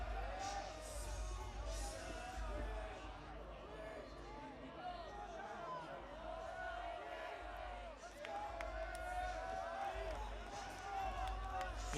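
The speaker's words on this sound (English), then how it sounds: "He's got a lot of folks here cheering." A crowd cheering and whooping in an arena at a gymnastics championship for senior men, with sustained cheers and shouts under commentators talking over it.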